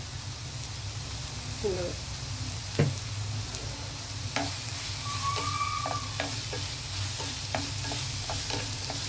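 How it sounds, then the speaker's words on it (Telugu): Onions sauté in a pan with salt and turmeric, giving a continuous close sizzle and hiss broken by occasional sharp clinks and scrapes of stirring. "ఉల్లిపాయలు కొంచెం మగ్గనివ్వాలండి, మగ్గనిద్దాం."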